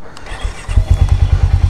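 A Harley-Davidson motorcycle engine starts up, cranking briefly before catching into a loud, close, rhythmic low throb that pulses steadily to the end.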